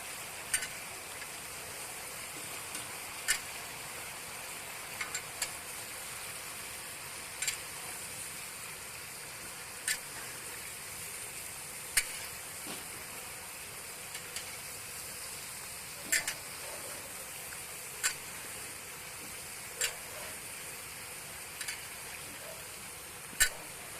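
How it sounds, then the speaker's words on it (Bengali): Potatoes fry in oil tempered with dry chili, five-spice and bay leaf for a temple offering meal, a steady soft sizzle running throughout with faint periodic ticks and scrapes, no voices. "সমস্ত আলুটা ওই ফোড়নের মধ্যে দিয়ে ভেজে"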